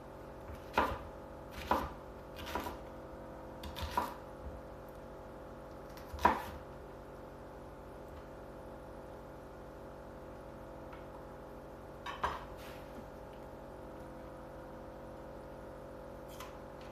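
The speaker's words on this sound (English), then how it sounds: "Not the worst onion I've ever cut in my life." Knife chopping an onion on a cutting board for an Instant Pot jackfruit curry stew, with a few sharp, separate chops spread out under a low steady background hum.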